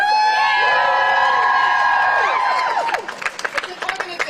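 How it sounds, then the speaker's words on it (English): A student walkout crowd at UT Austin cheers and whoops in a sustained swell, then breaks into scattered clapping as the shouting dies down. "Round of applause for Jane's Due Process."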